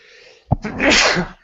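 A single loud sneeze bursts out close to the microphone, a sharp inhaled catch followed by an explosive, breathy blast lasting about a second.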